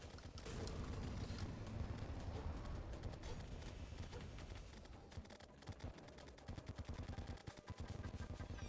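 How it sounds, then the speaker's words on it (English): Rapid gunfire from shooting enemies in the Terraria Calamity Mod game, a dense continuous barrage of loud shots and impacts running the whole time, with no talk. "shoot this guy, shoot this woman"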